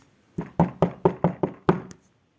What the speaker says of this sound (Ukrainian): Ой, послухайте, хтось стукає.